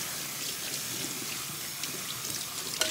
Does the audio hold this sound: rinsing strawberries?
yes